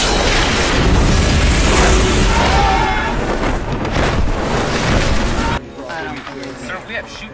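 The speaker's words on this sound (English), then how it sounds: "Missile away, sir." A missile launches from a military aircraft, a loud, sustained roaring rush that fills the first five seconds and then cuts off sharply, leaving quieter cabin rumble behind.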